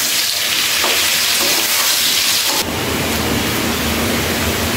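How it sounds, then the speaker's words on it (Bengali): Diced potatoes and chopped onion, along with fish, frying loudly in a pan. The close, continuous sizzle shifts in tone partway through as the food is stirred, and no one speaks. "এখন আলুটাকে একটু ফ্রাই করে নিব ভালো করে।"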